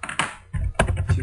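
Quick close taps and clicks from typing on a computer keyboard, a dense burst of keystrokes with no voices.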